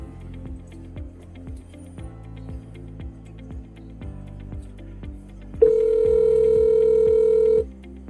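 A desk IP phone (Grandstream GXP1610) first plays a stepped series of electronic tones, then a single long steady ring tone sounds loud and clear for about two seconds for an external incoming call, with no talk.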